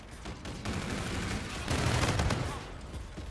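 SMG fire rattles in Call of Duty: Infinite Warfare as dense, continuous bursts of rapid shots, loud and close, rising in intensity midway through.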